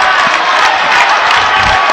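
A crowd of basketball fans at a high school district quarterfinal game stands clapping and cheering, a loud, steady roar of applause and shouts filling the gym without letup.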